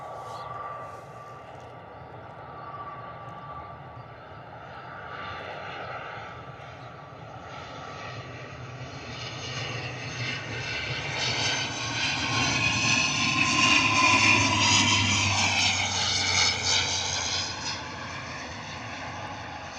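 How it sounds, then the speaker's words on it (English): Aer Lingus airliner, likely an ATR turboprop, landing at Bristol Airport in a crosswind, a steady broadband engine roar that swells louder and nearer midway with a rising propeller whine, then eases slightly. "Lovely arrival from Aer Lingus."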